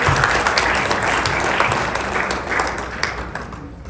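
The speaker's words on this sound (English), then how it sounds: "So give us a round of applause." A room of guests at a celebration reception applauds, dense and loud crowd clapping from the start that stays continuous and tapers slightly toward the end, with no voices on top.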